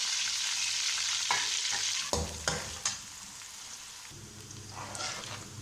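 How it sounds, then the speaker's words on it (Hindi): Sliced onions frying lightly in a pan for a Multani aloo chana curry, a steady close sizzle punctuated by several sharp stirring scrapes, no talking. "प्याज को हम हल्का फ्राई करेंगे।"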